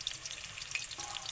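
Chili and onion fry in hot oil for a masoor dal with fenugreek greens, a quiet, steady sizzle. Small pops and crackles come through it with faint stirring underneath.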